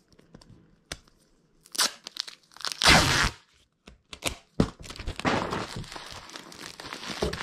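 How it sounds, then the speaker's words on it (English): Packing tape torn and stretched over a box, a series of loud ripping and crinkling bursts with thumps and rustling between them, close by. "Tape that up. That's tape."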